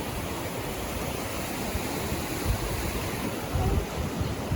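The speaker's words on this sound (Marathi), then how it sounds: "इकडे आम्ही भमसाळ नदीवर आलोय तेवढं पाणी आहे बघा" Steady broadband rush of water on the Bhamsal river, loud and continuous with occasional swells, mixed with wind buffeting the microphone and no voices.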